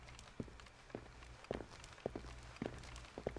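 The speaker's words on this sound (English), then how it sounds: "Now we hear footsteps while this guy is walking." A guard's footsteps in the Splinter Cell stealth video game, about six distinct soft thuds at a steady walking pace over a low ambient hum, moderately near.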